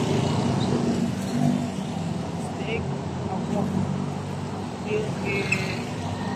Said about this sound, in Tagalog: Medyo marami sasakyan dito tayo sa side.